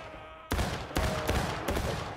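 Musket fire in the Civil War video game War of Rights: several sharp, loud shots crack out irregularly, one sudden report followed by three more spread over two seconds, each ringing out with a rolling echo.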